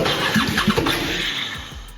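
A Wheel Horse racing lawn mower engine cranks and fires close by, loud and uneven, sputtering and chugging as it tries to catch before settling briefly.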